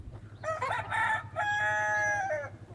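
A farmyard rooster crows close by, one long, clear cock-a-doodle-doo with a stuttering start and a sustained ending, over a low steady background hum and no talking.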